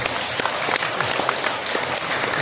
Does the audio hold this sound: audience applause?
yes